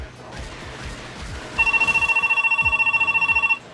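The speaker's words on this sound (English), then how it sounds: "That's the phone ringing." In Zelda Twilight Princess, a game telephone rings loudly, a bright trilling burst of fast pulses held for about two seconds, after a stretch of quieter in-game noise.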